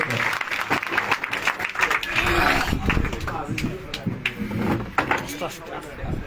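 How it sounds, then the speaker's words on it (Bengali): An audience claps for a guest speaker at a gathering, a dense burst of applause mixed with voices that rises, holds and then thins out into scattered claps and talk. "তো আরেকটা করতালি হোক স্যারের জন্য"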